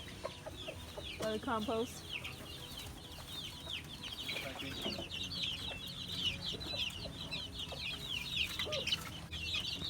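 Chickens clucking and a rooster calling in a farmyard near a compost pile, steady and fairly close, with a person talking briefly over the birds.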